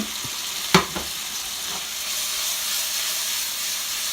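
Saltfish buljol with tomatoes and bonnet pepper cooking in a pan on the stove, a steady close sizzle and hiss with one sharp clank early on.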